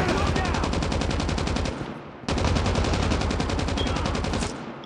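Call of Duty Mobile gunfire: two long, rapid automatic bursts, loud and close, with a brief pause between them and the second burst cutting off sharply at the end.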